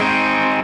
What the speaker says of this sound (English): Give that a strum and then take your finger back off to the bar